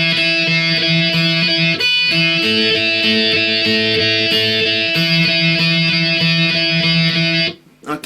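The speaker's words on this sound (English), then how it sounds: "after the first chorus, a distorted guitar comes in, and it sounds like this" A distorted electric guitar plays a sustained, buzzy riff from a song, held chords shifting a few times, loud and close, ending with an abrupt cutoff and a brief noise.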